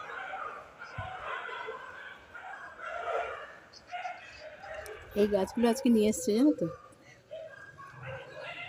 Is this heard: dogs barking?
yes